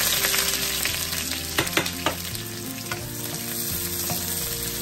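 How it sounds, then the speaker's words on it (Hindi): Sliced onions sizzle in olive oil in a pan, a steady crackling fry broken by a few sharp pops and stirring clatters, close and alone without speech. "बहुत अच्छी आवाज़ आ रही है यहाँ प्याज से"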